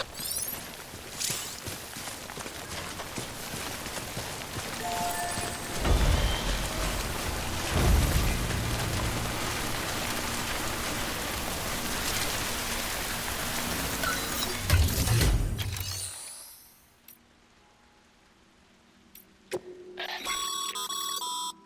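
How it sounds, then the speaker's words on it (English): Timefall rain in the video game Death Stranding falls as a dense, continuous patter, with a few sharper tones over it, then drops away abruptly near the end before faint game sounds return. "Don't stay out in the rain any longer than you have to."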